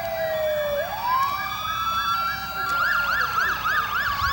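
Fire engine sirens wail at a parade for Engines 103 and 105, with a rising wail giving way to fast yelping cycles, loud and steady over rumbling traffic.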